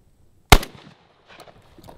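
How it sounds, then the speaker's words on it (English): A single loud, close blast from a rusty Remington 870 shotgun, with a short decaying tail and a few faint sounds afterward. "Hey, at least it's an auto shotgun."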